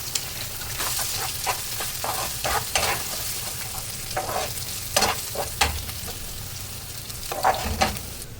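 Egg frying with onion, chili and tomato in a pan for noodles, a continuous close sizzle punctuated by repeated scraping stirs of a spatula against the pan.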